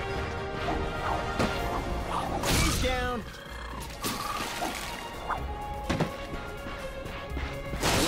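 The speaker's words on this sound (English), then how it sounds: "Look at him smashing crates." Sharp wooden crashes and thwacks of crates breaking ring out among effects from the video game Ratchet and Clank (2016), with a voice talking through parts of it.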